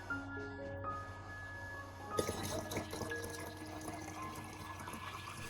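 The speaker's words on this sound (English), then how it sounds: "We add 500 milliliters of clean filtered water." 500 milliliters of filtered water splashes and trickles into a container, starting abruptly after a quiet hum and continuing steadily, fairly faint and close.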